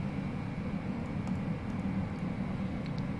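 Airliner jet engines spooling up for takeoff in a flight simulator, a steady loud low roar with a constant hum and a few faint clicks on top, no speech.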